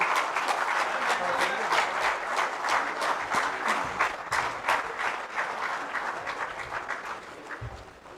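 An audience at a Jharkhand administrative service association gathering applauds to welcome the chief minister's secretary. The dense, sustained clapping lasts several seconds and thins slightly toward the end, with a faint voice underneath.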